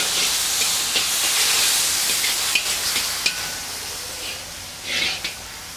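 A cup of carrots goes into a hot pan for chicken vegetable pasta, setting off a steady sizzling hiss with a few sharp clinks and scrapes near the end.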